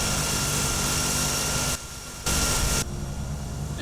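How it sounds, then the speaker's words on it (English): A running aircraft engine in a light plane cockpit gives a steady, loud broadband roar, briefly dipping and returning twice, with no talking. "sounds like the engine's up and running"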